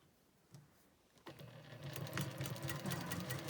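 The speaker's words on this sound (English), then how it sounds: "we're just going to start by sewing them in columns" A sewing machine starts up and runs steadily, stitching fabric pieces together in columns for a quilt block, close and unaccompanied by talk.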